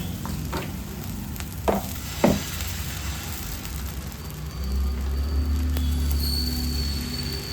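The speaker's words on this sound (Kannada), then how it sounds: "ಒಂದು ತವನ ಬಿಸಿಗೆ ಇಟ್ಕೊಂಡಿದ್ದೀನಿ. ದೋಸೆ ಹಾಕೊಳ್ಳೋಣ ಈಗ." Cucumber dosa batter spreading and frying on a hot tava, a steady close sizzle with a few sharp scrape-like clicks early on and a louder, fuller hiss building toward the end, no voices.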